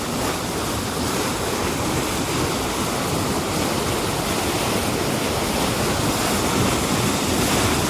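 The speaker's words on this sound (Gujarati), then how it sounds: "આપણે યકીન નહીં કરે એટલું પાણી આવે છે દોસ્તો" Loud canal water rushes in a steady, dense roar that stays unbroken and close throughout, with no voices over it.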